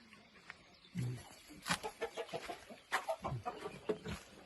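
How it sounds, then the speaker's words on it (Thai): Chickens clucking and a rooster calling on a village farm where pigs are also kept, several short bursts of fowl calls close by, with a faint human voice now and then. "เลี้ยงไก่เลี้ยงหมูอยู่ตรงนี้นะครับดู"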